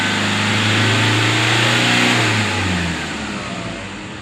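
A diesel car engine during a purging service, revved gently and held steady: a loud, close, sustained drone whose pitch rises slightly, holds, then eases back toward idle.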